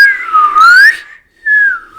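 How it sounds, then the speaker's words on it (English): A human whistle, thin and weak: two short wavering pitched notes, the first sliding down then up, a brief gap, then a second flatter note, close and alone. "it's a weak whistle"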